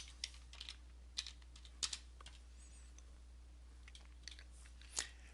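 Quiet typing on a computer keyboard in a spreadsheet session: a few sparse, separate key clicks scattered over a few seconds, close and soft above a low steady hum, with no talking.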